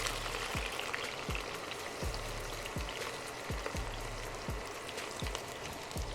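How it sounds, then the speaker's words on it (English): Red onions sauté in hot oil for jerk chicken jollof rice, a steady, soft sizzle running throughout with faint low thumps repeating at a regular pace underneath. "You get the oil nice and hot. We're gonna add the red onions."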